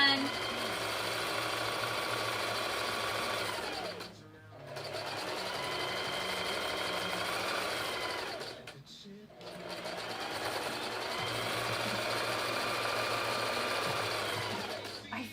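A sewing machine runs steadily in three long stitching runs separated by short stops, its motor hum close and continuous, with a person talking over it.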